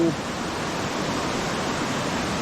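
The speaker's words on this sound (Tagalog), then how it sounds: "Pagkalakas po ng tubig din eh." Strong rushing water pours in a dense, steady roar, loud and close, with no break across the whole stretch.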